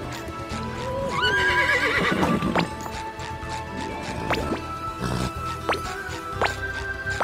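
Sea horse in a SpongeBob video game: loud whinnying neighs with rising and falling pitch over rapid clip-clop hooves and sharp game impact sounds, continuous and close.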